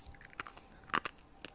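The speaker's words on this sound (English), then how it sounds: "you can hear that crunch" A close, crisp crunch as someone bites into chicken fried rice stuffed in a bell pepper, its top layer crisped, with several short crackly bursts in quick succession.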